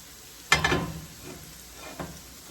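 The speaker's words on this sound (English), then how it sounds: "And they were frying on the first side for about 4 minutes" Latkes crackling and sizzling in hot oil, with a sudden burst of spattering followed by a quieter steady fry and a faint clink.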